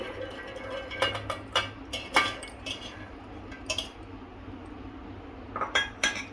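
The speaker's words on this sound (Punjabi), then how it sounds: "ਆਪਾਂ ਜੱਗ ਲੈ ਲਿਆ ਮਿਕਸੀ ਦਾ ਹੁਣ ਇਹਦੇ ਵਿੱਚ ਦਾਣੇ ਪਾਵਾਂਗੇ ਜਿਹੜੇ ਕੱਢੇ ਹੋਏ ਨੇ ਅਨਾਰਾਂ ਦੇ" Pomegranate seeds dropped into a mixer jug, a few quiet clusters of light clinks and rattles against the jug with pauses between, near and soft, no talking.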